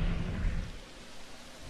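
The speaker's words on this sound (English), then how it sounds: "And it's raining." Rain and a low thunder rumble in the Triassic Tours dinosaur park video game, a steady wash of rainfall with a deep rolling rumble that fades after the first moments.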